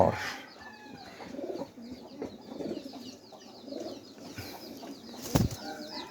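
A pigeon coos softly in repeated low phrases at a home loft, with faint bird calls and a brief burst of wing flapping or handling noise near the end.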